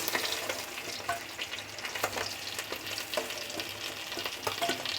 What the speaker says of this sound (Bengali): আমার মাছগুলি একদম লাল লাল করে ভাজা হয়ে গেছে এখন আমি মাছগুলোকে তুলে নিচ্ছি